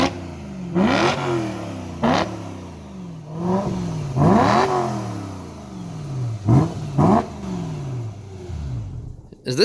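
A BMW E46 325 engine is revved hard several times, each blip rising sharply and falling away, recorded close to the engine; exhaust has its baffles removed.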